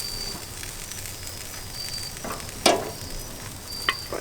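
Sausages sizzle on a gas barbecue grill, a soft, steady hiss with two brief crackling pops standing out near the end.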